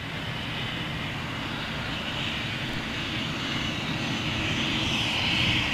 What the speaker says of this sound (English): Looks pretty new, this aircraft.